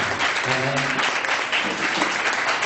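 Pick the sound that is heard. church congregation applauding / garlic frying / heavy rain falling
church congregation applauding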